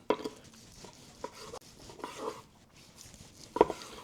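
A knife slicing through tender smoked beef pastrami made from brisket and belly, giving a few soft scraping strokes and light board taps, the last one louder, close up with no talking.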